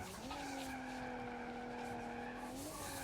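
Car tires skid and squeal in a long sustained screech as a car drifts in the driving simulation game BeamNG, with the engine droning underneath and no one speaking.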